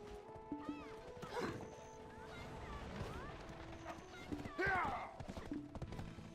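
Clip-clopping hooves with a black stallion neighing in the video game Black Desert Online, mixed with scattered thuds and a brief louder crash.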